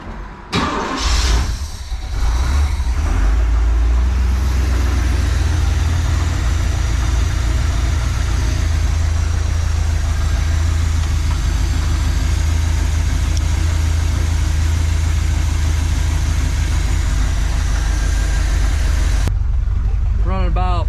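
A 1986 Pontiac Trans Am with a 305 V8 on a four-barrel carburetor, freshly reworked with new intake gaskets, catches and then settles into a steady low rumbling idle for about twenty seconds, close by and loud.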